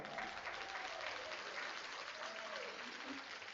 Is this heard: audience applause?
yes